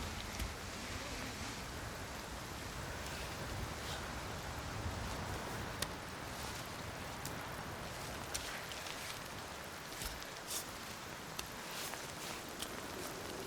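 Steady rain falling in the video game Cairn, a dense even hiss of drops with occasional sharper taps, constant and moderately quiet with no voices.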